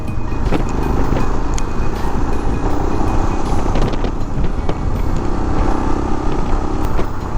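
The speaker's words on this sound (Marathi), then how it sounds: "सकाळी सकाळी ट्रॅफिक बघा किती आहे" Steady roar of morning road traffic on the Western Express Highway in Mumbai, a dense broadband rumble of passing vehicles continuing throughout at a constant loud level, with no speech.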